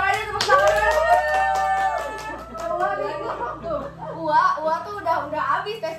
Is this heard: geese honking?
no